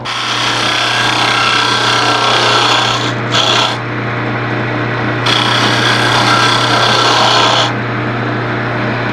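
Round nose scraper on a wood lathe taking a final cut inside a wetted wooden box, a loud continuous rasp over the lathe's steady hum, breaking off briefly twice before resuming.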